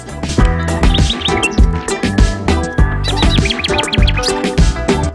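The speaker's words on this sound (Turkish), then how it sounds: "Uyandığınızda sizleri kuş sesleri ve muhteşem bir doğanın selamlamasına ne dersiniz?" Dense, busy birdsong with many overlapping chirps and trills, bright and close, continuous throughout with no talking.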